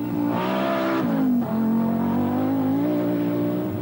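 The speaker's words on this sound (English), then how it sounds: "contrast the new automatic gearbox works Audi Quattro of Walter Roll and just watch it go" A works Audi Quattro rally car with a new automatic gearbox drives hard, its engine loud and close with a strong steady drone that dips briefly as the gear changes, then climbs again.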